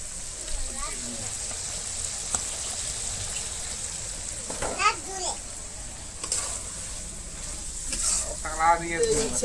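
Chui jhal curry frying in a pan as spice powder goes in, a steady sizzle with stirring scrapes underneath, while a voice and other chatter come through intermittently.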